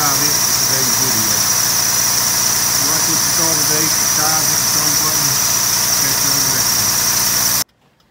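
A Chrysler PT Cruiser engine idles after repair with a steady, even rumble and faint rhythmic ticking, running close by for several seconds before cutting off abruptly.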